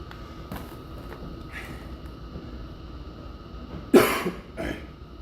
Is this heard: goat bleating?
no